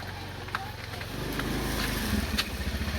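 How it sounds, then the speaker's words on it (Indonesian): A motorcycle passes along a road, its engine drone building and swelling nearby while background chatter and street noise continue. "Awas minggir, jalannya minggir, ada motor."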